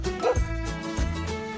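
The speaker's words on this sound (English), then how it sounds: "It's a dog." A dog gives a few short, close yipping barks over a toy-like background tune, with no talking.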